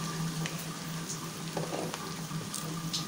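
Spaghetti tossed with sautéed julienned vegetables in a hot pan for chicken chow mein, giving a steady close sizzle with scattered light scraping and clinks of stirring throughout.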